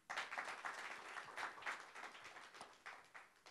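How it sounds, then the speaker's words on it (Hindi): An audience at a film song teaser launch applauds actor Arjun Rampal, steady crowd clapping with rhythmic pulses, fairly distant and continuous throughout. "इसलिए अर्जुन जी इस फिल्म के हीरो है, उनके लिए ताली बजाइए।"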